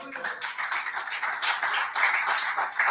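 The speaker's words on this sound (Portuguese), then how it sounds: "Dê um aplauso a Jesus." A church congregation claps and applauds together during a service, a steady dense patter of hands with voices mixed in underneath.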